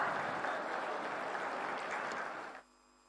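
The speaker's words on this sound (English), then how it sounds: "A huge round of applause, everyone." An audience at an inaugural event in Rajpura claps in a dense, steady wash of applause that fades out near the end, leaving a faint hum.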